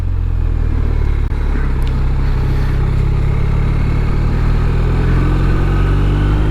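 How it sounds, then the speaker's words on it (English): A BMW R1250 RT motorcycle with its 1250cc ShiftCam boxer engine riding along, a steady, loud, smooth engine drone with constant wind and road noise throughout and no voices. "It also feels a lot more sprightly as a result, and it's nice and smooth as well, this engine."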